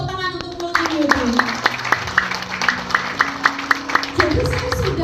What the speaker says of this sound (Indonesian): beri tepuk tangan untuk Multi Beauty